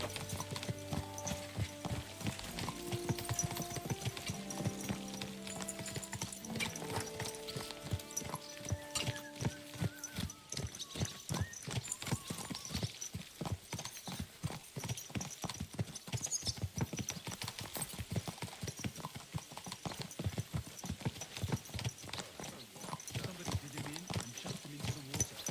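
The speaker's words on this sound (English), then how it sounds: "Don't you know how to ride a horse?" Rapid rhythmic horse hoofbeats galloping along a road in the medieval game Kingdom Come, continuous and close, with a brief whinny, game music early on and voices talking over the riding.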